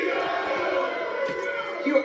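A loud, boisterous crowd at a radio show event at McGurk's, a dense roar of many voices shouting and cheering together throughout.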